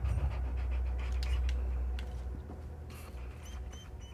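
Dog panting in the video game Hell Is Us: rapid, breathy huffs close up and fairly quiet, running continuously over a low ambient hum.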